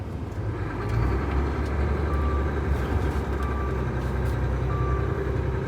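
A vehicle pulls off through a snowstorm, its engine droning low and steady with a rising rev as the wheels briefly slip, a continuous near rumble with no voices.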